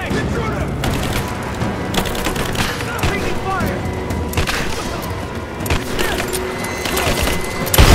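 Rise of the Tomb Raider combat: dense, continuous gunfire and impact bursts with splintering debris and booming hits, loud and busy throughout, with game character voices shouting over the battle.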